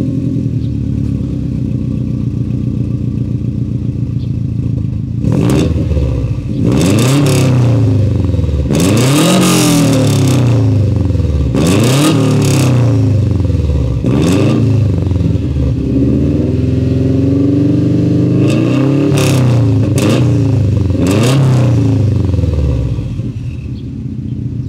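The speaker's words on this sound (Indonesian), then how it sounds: "Oke, yang mobil silver ini memang knalpotnya sudah diganti, tapi warna suaranya yang berbeda." Silver car with an aftermarket exhaust, close and loud, its engine revved repeatedly in a long series of sharp rising and falling blips over a steady idle, with no voices.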